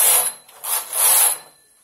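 A hand-operated knitting machine carriage slides across the needle bed for two rows while working a net embroidery design, giving two close, rasping sweeps with a short pause between them, then quiet.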